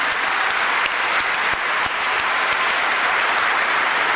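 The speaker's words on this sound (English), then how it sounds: "Let's give the Color Guard and Jenica one last round of applause." Applause from the audience at a commencement ceremony, following a Color Guard and national anthem performance; dense, sustained clapping from a large crowd holds steady throughout with no voices over it.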